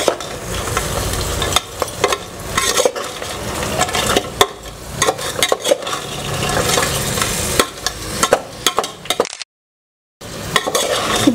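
Crab ghee roast masala frying in a pan, a loud dense sizzle with frequent spatula scrapes and clatter against the pan, close, with a brief cut to silence near the end.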